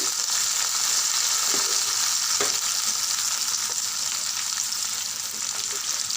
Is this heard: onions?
yes